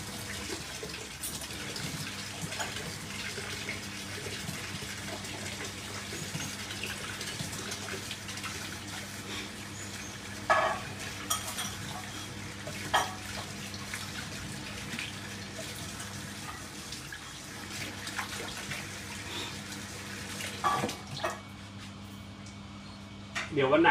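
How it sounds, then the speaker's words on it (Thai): Hands washed under a running kitchen tap before cooking, a steady stream of water splashing for a long stretch with occasional louder splashes, while people talk over it. "ล้างมือก่อน"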